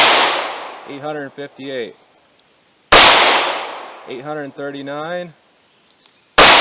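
Two sharp gunshots from a .38 Special pocket revolver firing 125 grain FMJ rounds, each a loud crack with a ringing tail, with a third starting at the end; someone speaks briefly between the shots.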